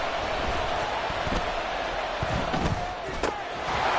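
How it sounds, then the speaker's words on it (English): Steady crowd roar from a simulated stadium in Madden 24 during a Jets game, a dense continuous wash of cheering with a few thumps and a brief sharper burst near the end, carried under faint commentary. "this crowd is making an impact right now"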